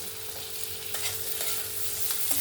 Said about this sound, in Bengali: এবার আমি কেটে রাখা টমেটোগুলো দিয়ে দেব